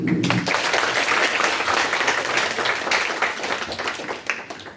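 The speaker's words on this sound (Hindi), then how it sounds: "जोरदार तालियां।" Audience applause at a World Braille Day quiz competition: a steady, dense wash of many hands clapping from a sizable crowd, sustained for several seconds and tapering slightly at the end, with no voices over it.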